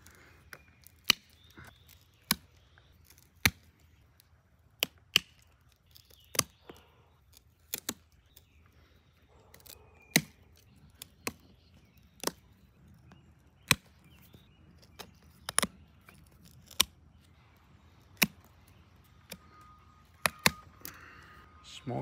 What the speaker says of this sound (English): we're gonna start this work with our knob cutters